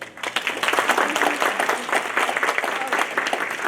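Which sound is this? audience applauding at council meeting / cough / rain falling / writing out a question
audience applauding at council meeting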